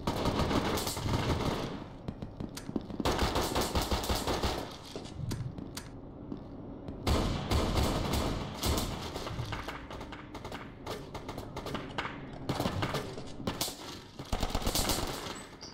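Rapid gunfire from a newly unlocked weapon in the shooter game Brain Out, loud bursts of shots with short pauses between them and no talk.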